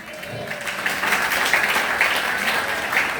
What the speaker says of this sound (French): on applaudit l'église